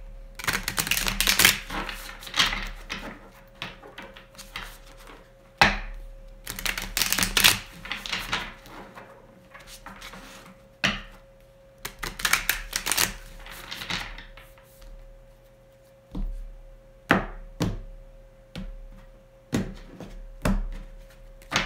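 Close, crisp clicking and riffling of tarot cards comes in repeated bursts with short pauses between, over a faint steady hum.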